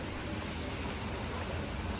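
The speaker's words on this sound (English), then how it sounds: "Unfortunately, it's raining on our first working day." Rain falls steadily on a working day, a dense, even hiss of drops on surfaces that fills the whole moment without pause or voices.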